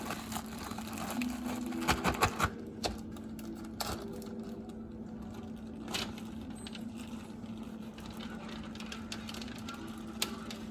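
Dyed chickpeas rattle and clatter inside a bag as it is shaken to coat them, a quick burst of dense rattling followed by softer, scattered rustles and taps.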